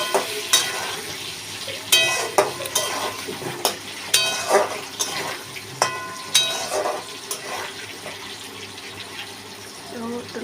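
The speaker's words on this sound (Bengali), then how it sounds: "নুন দিয়ে হলুদ দিয়ে ভালো করে আলুগুলোকে ভেজে নেব।" Potatoes seasoned with salt and turmeric fry in a pan, a soft sizzle broken by repeated sharp scrapes and knocks of stirring, close and moderately loud, with no one speaking.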